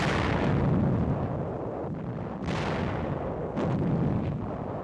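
Tank destroyers and guns pounding enemy cave positions in 1945 combat, heard as a dense, rumbling barrage with two sharper blasts standing out, distant and muffled in old wartime film sound.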